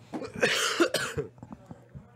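A person coughs several times in a quick burst with some throat clearing, close and fairly loud, followed by softer breathy sounds in a quiet room, at a Modern Friday Night Magic card game commentary.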